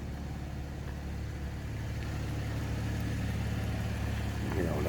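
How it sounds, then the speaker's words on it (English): A 2015 Cadillac ATS 4 all-wheel-drive coupe idles with a steady, smooth low exhaust hum, fairly quiet and unchanging over a few seconds. "Just a smooth running, nice quiet exhaust."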